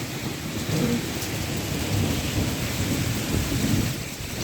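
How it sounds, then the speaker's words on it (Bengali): Hard, steady hail and rain pour down during a thunderstorm, a dense, loud roar with low rumbling underneath that holds without break for several seconds, no voices. "এখানে বড় বড় হিল পড়তেছে।"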